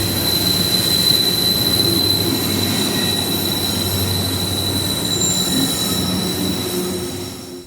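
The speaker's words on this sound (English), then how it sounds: "This is a CSX coal train running on Norfolk Southern trackage." A CSX coal train rolls along Norfolk Southern track, a continuous heavy rumble of passing cars with a sustained high wheel squeal, close by and steady throughout.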